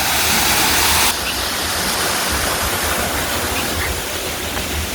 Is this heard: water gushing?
yes